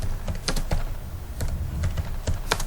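Rapid, continuous typing on a computer keyboard while writing an e-book, with close, clattery keystrokes in uneven bursts and no talking.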